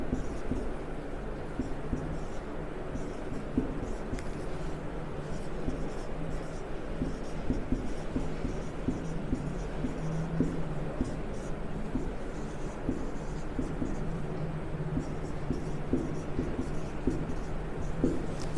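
Chalk or marker scratching on a classroom board while writing the word Historika, soft repeated strokes under steady room noise.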